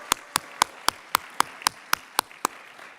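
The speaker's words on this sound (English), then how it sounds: "How about a round of applause for Freed Photography?" Audience applause arrives as a rapid, evenly spaced run of about a dozen crisp claps, each sharp and distinct rather than a dense wash, all at a steady moderate level.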